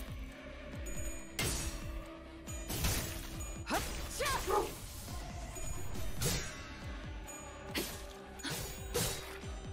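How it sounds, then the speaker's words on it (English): A dog barks outside a bedroom door, wanting to be let in; a few sharp barks ring out in a room under steady background music and game sounds, with no talking. "is barking to get in my room"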